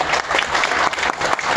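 An audience at a political mimicry comedy show breaks into loud, sustained applause, dense clapping filling the room evenly from start to finish.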